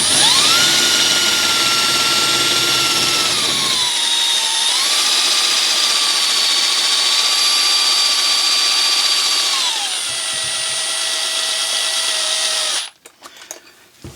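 A power drill turning a Toyota OEM screw jack whines loudly and steadily for many seconds, its pitch dipping and rising under load, then cuts off abruptly.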